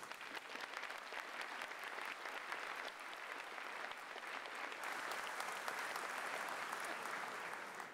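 An audience at a university commencement ceremony gives ushers a sustained round of clapping, heard faint and distant, with dense, even claps that rise slightly toward the end.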